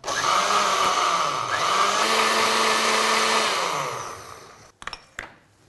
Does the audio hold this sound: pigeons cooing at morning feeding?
no